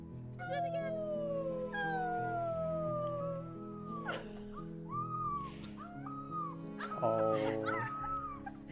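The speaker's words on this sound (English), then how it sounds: "Puppy's first bark." A puppy's first bark from a played video: thin whimpers, yips and howl-like cries drift over a continuous background bed, fairly faint, with no clear speech over them.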